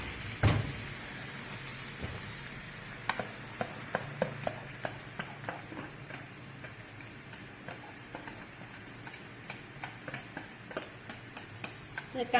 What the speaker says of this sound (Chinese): 再来，我们炒一炒这个青松